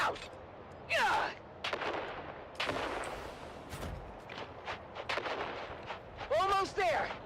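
Repeated explosions and bursts of gunfire in a desert battle, loud booms and crackling volleys spread across several seconds, with shouting voices mixed in.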